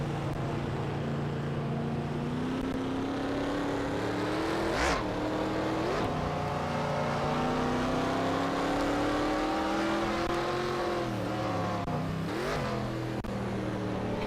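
Race car engines in a racing video game rev and drone under traffic, pitch rising and falling with gear changes and downshifts, with a couple of sharp passing whooshes around the middle and near the end, loud and continuous, no voices.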